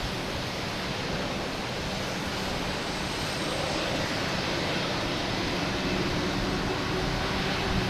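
A Spirit Airlines airliner arriving at Boston Logan gives a steady, broad jet roar that holds at an even level throughout, with a faint high whine on top and no talk.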